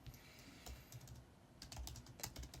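Keys clatter steadily on a computer keyboard while a code comment is typed, with quiet, uneven bursts of clicks and a brief pause partway through.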